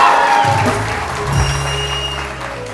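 Audience applause in a TV morning show studio, a moderate wash of clapping mixed with tonal background music and a faint cheer, fairly loud and continuous throughout.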